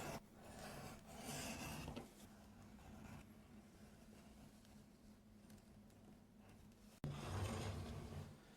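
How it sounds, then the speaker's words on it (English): An edge beveler rasps along the edges of leather pauldron pieces for a Warhammer cathedral pauldron set. The steady, scratchy scraping runs in long strokes with a brief break, and it sounds close and fairly quiet. "Next, we want to bevel the edges."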